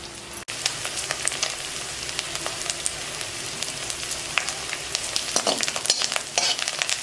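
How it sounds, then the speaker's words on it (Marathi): Green chillies and curry leaves frying in hot oil in a kadhai, a steady crackling sizzle with sharp pops and spits throughout, loud and close, with no talking. "आता हेच कढईमध्ये हिरवी मिरची घालू. हे कढीपत्ता घालू."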